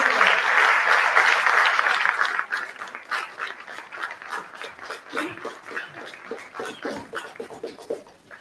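An audience at a CSD 2024 event applauds, starting as a dense, loud burst of clapping that thins after a couple of seconds into scattered, uneven claps that continue to the end.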